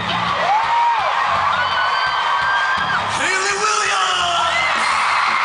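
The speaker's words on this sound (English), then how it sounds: "I want you to scream really loud when I say your name, okay? Really loud, okay?" At a concert, a large crowd screams and whoops loudly and continuously, with many rising and falling shrieks layered into a roaring wall of cheers.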